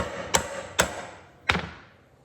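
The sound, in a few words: hammer tapping a seal into place on a 1957 Dodge engine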